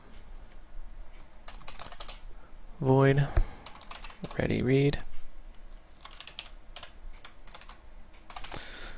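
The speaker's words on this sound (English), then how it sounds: "I'm just going to type it in then" Rapid clicks of typing on a computer keyboard set up for gaming, steady and close, broken by two short stretches where someone speaks.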